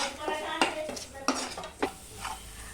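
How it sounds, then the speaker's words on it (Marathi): Masala spices of turmeric, red chilli powder and salt being stirred and fried in a pan, a few spatula scrapes and clinks over a quiet sizzle, close but fairly soft. "हळद थोडीशी लाल मिरची पावडर मीठ चवीसार रितेज पत्ता आता परत फ्राय करू"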